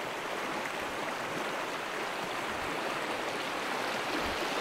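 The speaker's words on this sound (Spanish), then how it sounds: "Y este es el caudal de agua que tiene este río." The Besaya river flows at a strong rate, making a continuous broadband rush of moving water with no voices, close and even throughout.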